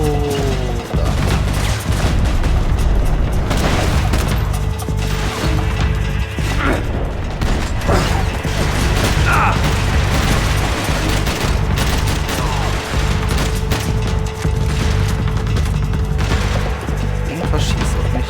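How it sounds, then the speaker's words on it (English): Gunfire in the video game Max Payne 3 inside a strip club, loud dense shooting and crashing impacts across the whole stretch, with voices audible beneath. "Irgendwas schießt auf mich, ich sehe nicht was."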